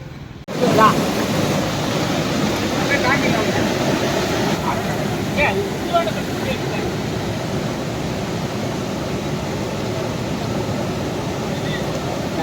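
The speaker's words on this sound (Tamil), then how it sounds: "மேட்டூரில் 16 கண் மதகு வழியாக தண்ணி ரொம்பும் போது" Water rushing through the 16 sluice gates of Mettur dam in Salem, a loud, steady broadband roar of churning flow that continues unbroken throughout.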